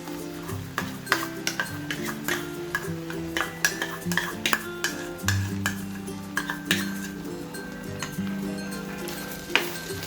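A chili, onion and cashew paste is stirred and sautéed in a pan for chicken malai tikka, with irregular scraping and clinking of a spoon against the metal pan and a faint sizzle underneath.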